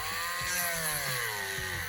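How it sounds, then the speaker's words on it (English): A small power drill whirs continuously at close range, its pitch sliding slowly downward as it bores through the thigh of a plastic action figure. "Drill another hole."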